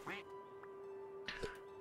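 Ducks in the farming game No Place like Home let out a few short quacks, one near the start and a pair later, over a steady tonal game background hum.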